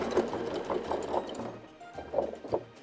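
Sewing machine stitching fabric for a cloth Christmas tree, quiet rhythmic bursts of needle chatter, pausing briefly midway then resuming for a few more stitches, close up with no talk.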